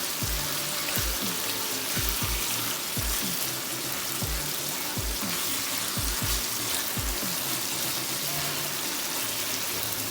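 Rotel dip stirred in a hot pan gives a continuous sizzling hiss, while repeated low knocks of the spoon against the pan come in an uneven rhythm.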